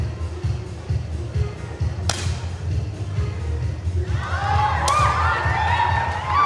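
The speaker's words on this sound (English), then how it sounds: "you can hear the whoops from the Germans in the crowd" German fans in the crowd at a 10m air pistol shooting final let out sudden whoops and cheers near the end, rising over a low murmuring hall after two sharp impacts.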